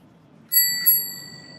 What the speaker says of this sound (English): Oh, comes replete with a bell.